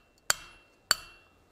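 A hammer taps a metal tool down into an anvil's hardy hole: two sharp, ringing metallic strikes about half a second apart, each decaying quickly, close and alone.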